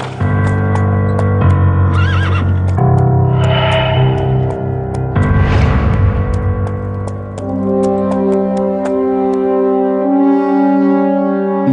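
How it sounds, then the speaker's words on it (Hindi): Thirsty horses in a royal travelling party whinny loudly and repeatedly, with echoing, processed neighs layered over a sustained musical backdrop and faint hoof clip-clop, no voices. "घोड़े भी प्यासे हैं।"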